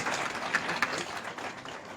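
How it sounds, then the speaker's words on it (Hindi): Scattered clapping from an audience closing an inaugural session at a National Milk Day event in Patna, faint and somewhat thin, with a couple of sharper claps standing out. "तालियां जोरदार होनी चाहिए"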